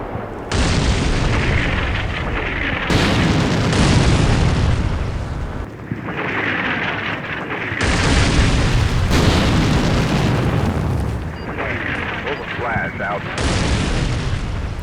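A general artillery barrage in the Combat Mission Black Sea war game: heavy booming explosions come one after another with a rumbling roar between them, while someone talks over the din.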